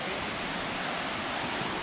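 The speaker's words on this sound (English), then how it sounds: "So this is the way through the waterfalls." Mossbrae Falls, a waterfall along a hot summer trail, gives a steady, dense roar of falling water filling the whole clip without a break, close and continuous.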